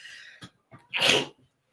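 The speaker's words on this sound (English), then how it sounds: "I done sneezed, honey." A single sharp sneeze bursts out after a quick intake of breath, close and loud against an otherwise quiet background.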